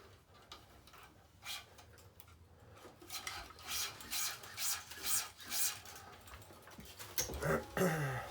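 Strings on a Head Pro Tour 630 tennis racquet are pulled and tightened, giving a series of short rubbing, scraping zips in a quick irregular rhythm, close and moderately quiet, with faint clicks near the end.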